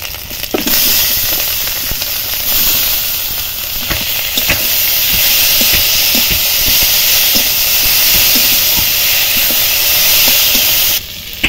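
Boiled jackfruit seeds tipped into spice paste frying in a pot, a loud continuous sizzle and hiss with scattered stirring scrapes and clicks, close up and without talk.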